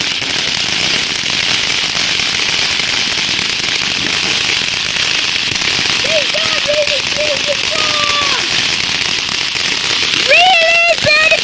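Bonfire night fireworks go off outdoors, with sharp crackling bursts, popping and rising whistles over a steady background hiss, and people's voices mixed in among the explosions.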